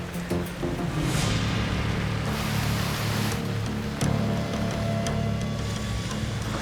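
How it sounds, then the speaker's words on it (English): Torrential wet-season tropical rain over flooded ground on Tuvalu, a steady, loud hiss of heavy downpour that carries on without a break. "There's torrential rain and the whole area is flooded."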